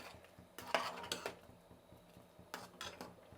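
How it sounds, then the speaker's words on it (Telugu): A metal spoon stirs Karnataka wedding-style sambar in a pot after sambar powder mixed with water is added, giving a few close, sharp clinks and scrapes against the pot with short pauses between them. "ఇప్పుడు సాంబార్ పొడి వేసుకున్నాం కదండి, నీళ్ళలో కలిపి పోసినాం కదా, అప్పుడు బాగా కలుపుకోవాలి ఉండలు కట్టకుండా"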